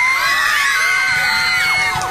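A group of children shout and cheer together in a loud, continuous burst of overlapping high voices, with whoops and yells rising and falling throughout, close and crowded.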